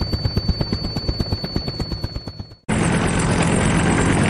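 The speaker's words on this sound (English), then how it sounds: "Heavy lift helicopter." A heavy lift helicopter's rotor thumps in a rapid regular beat, then the sound cuts sharply to a loud, steady whining roar of turbine engine noise.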